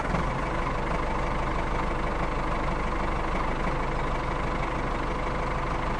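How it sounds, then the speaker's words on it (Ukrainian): Steady tractor engine running on a farm, a constant low rumbling drone at even loudness throughout, with no voices. "Тож сідаємо в тракторець і поїхали."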